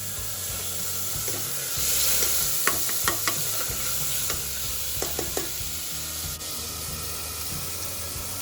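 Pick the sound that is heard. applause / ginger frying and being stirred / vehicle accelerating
ginger frying and being stirred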